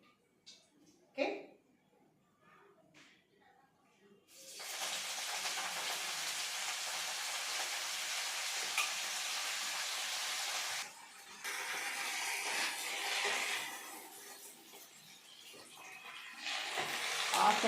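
Coriander leaves frying in cooking oil: after a few faint clicks, a loud, steady broadband sizzle sets in and continues throughout, briefly dipping and then resuming.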